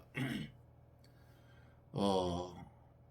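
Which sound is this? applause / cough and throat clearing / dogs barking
cough and throat clearing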